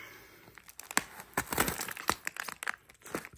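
Plastic packaging around DDR3 RAM modules crinkles and tears as it is pried open with a pen in place of scissors, giving a string of close, irregular crackling bursts with no talking.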